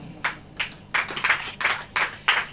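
A church congregation claps in a steady rhythm, about seven sharp, close hand claps spaced evenly over a couple of seconds with no voices.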